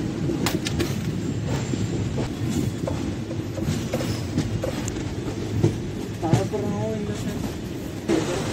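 The Sabari Express rolls into Coimbatore Junction with a steady low rumble, rhythmic wheel clicks and a few brief squeals, while voices talk nearby.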